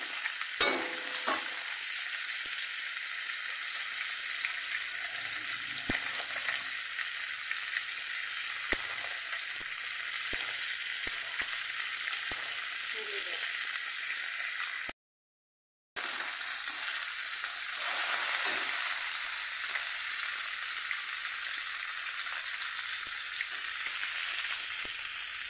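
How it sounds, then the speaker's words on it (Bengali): Fish frying in a pan of hot oil, a steady close sizzle and crackle running without pause, with a short gap partway through. "মাছ আমার প্রায় ভাজা হয়ে গেছে"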